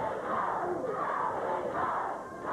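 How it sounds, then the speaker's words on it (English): A 1985 Memphis arena wrestling crowd cheering during a tag-team match, forming a steady, broad roar of many voices that swells and ebbs. "Crowd cheering on Tim and Steve."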